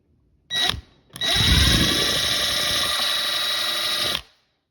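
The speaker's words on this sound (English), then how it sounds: "Okay, so we're gonna drill a pilot first." A power drill drilling a pilot hole during a water heater power vent repair gives a short burst, pauses, then whines steadily for about three seconds before stopping, loud and close.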